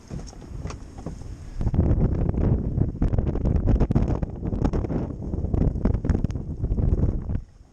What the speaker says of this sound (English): It's already ridiculously windy out there.